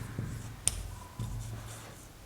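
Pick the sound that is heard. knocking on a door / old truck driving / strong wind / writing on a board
writing on a board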